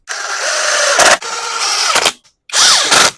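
Bolts being driven back into a Honda GCV200 engine on a Ryobi pressure washer, heard as three close, loud bursts of whirring, ratcheting tool noise separated by short pauses.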